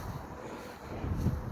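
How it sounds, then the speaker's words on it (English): Gusty wind in a cemetery buffets the microphone with low rumbling bursts, rising and falling over a second and a half, with no one speaking. "It's windy out here right now."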